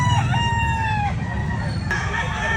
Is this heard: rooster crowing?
yes